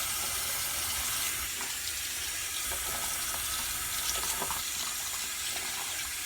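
Running tap water rinses makeup brushes in a sink, a steady close hiss of flowing water with faint splashing and shifting as the brushes move under the stream.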